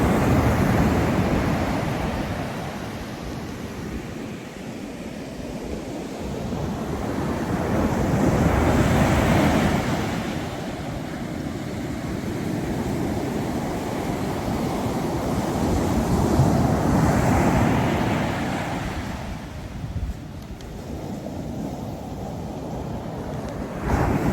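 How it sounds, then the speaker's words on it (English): Ocean waves roll in and wash out in slow, swelling surges, with a constant roar of surf and some wind buffeting the microphone, and no voices. "I'm just enjoying the waves."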